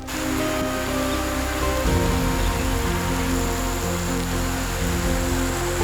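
Steady, dense rain falls continuously, a loud even hiss of drops with no voices.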